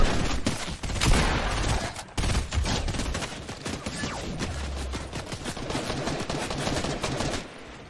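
Gunfire in the video game Fortnite, a loud, dense stretch of rapid overlapping shots and bursts continuing throughout with no pauses.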